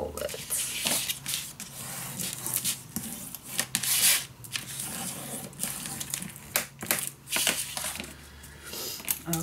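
Crisp paper being folded and creased for a traveling 4-in-1 folio project made with Ciao Bella papers, with near, continuous rustling, rubbing and scraping strokes throughout.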